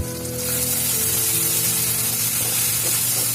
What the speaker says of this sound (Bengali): এগুলো দিয়ে আবার ভালো করে কষিয়ে নেব।